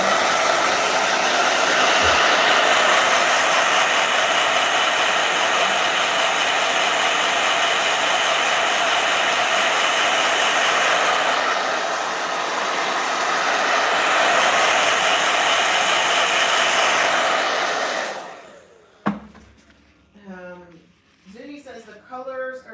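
A blow dryer roars loudly and continuously for most of the stretch, its whooshing airflow shifting slightly in pitch, then cuts off abruptly, leaving someone talking in a quiet room.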